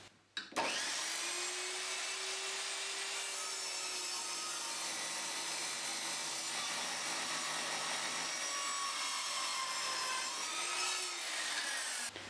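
A mitre saw cuts patterned architrave wood at a 45-degree angle, a loud continuous whine and rasp that starts abruptly and holds steady for about twelve seconds, with no voices.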